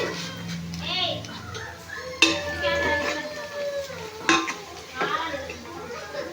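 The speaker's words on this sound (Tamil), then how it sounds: "இப்போ நம்ம வெங்காயம் எந்த அளவுக்கு வதங்கி இருக்குன்னு பார்ப்போம்." Onions sautéing in a pan for mutton biryani, a low sizzle under clattering spoon-on-pan stirring, with people talking over it including a voice.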